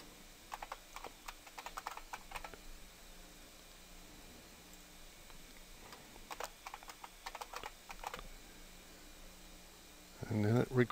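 Quiet keystrokes on a computer keyboard while entering a name during a Windows 7 setup in VirtualBox, coming in light bursts of clicks with pauses and a soft background hiss, followed by a louder thump at the end.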